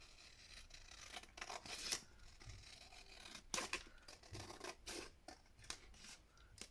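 Scissors snip through paper laid over a fabric-patterned paper envelope, giving a run of crisp, close cuts with short pauses between strokes, soft and alone with no talk.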